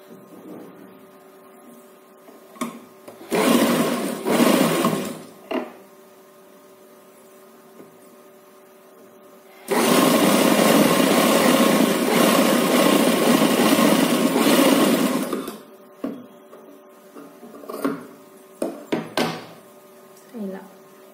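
A sewing machine stitches cloth for a baby frock in two bursts of whirring motor noise, one short and one longer and steady, separated by quiet stretches with faint hum and small clicks of handling.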